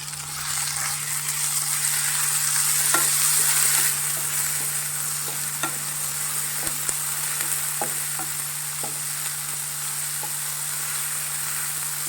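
Tomatoes sizzle and fry in Goan rechado masala while being stirred, a steady hiss broken by occasional scraping clicks, close up, with no talk.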